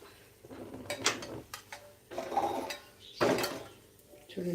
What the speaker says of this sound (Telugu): తాలింపు కూడా రెడీ అయిపోయింది సో దీంట్లో వేసేసుకుందాం పప్పులో